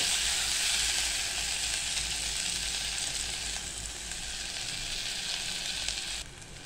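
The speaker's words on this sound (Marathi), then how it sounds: "टोमॅटो मऊ होईपर्यंत परतायचा आहे आपल्याला हा." Tomatoes sautéing in a hot tempering for mixed dal khichdi give off a constant close sizzle with faint crackles, easing slightly midway and dropping quieter just before the end.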